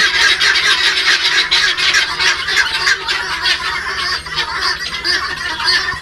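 A flock of Tithi laying hens at a poultry farm clucks and squawks continuously, many birds calling over one another at close range, loud and busy throughout.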